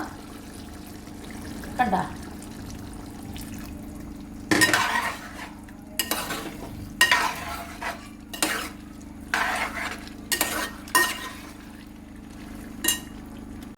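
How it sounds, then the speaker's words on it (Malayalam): Cornflour mixture poured into a pan and stirred at the same time, giving repeated bursts of metal spoon scraping and clinking against the pan between quieter pauses, with a brief spoken word. "ആ ഒഴിക്കുന്ന കൂട്ടത്തിൽ തന്നെ ഇളക്കുകയും കൂടെ ചെയ്തോണം"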